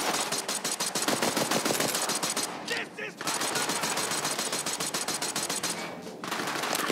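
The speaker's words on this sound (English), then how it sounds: "There's like someone shooting like behind me or something." Rapid automatic gunfire in Borderlands 3, a fast rattling burst of shots that runs nearly continuously, with two short pauses between volleys, loud and close.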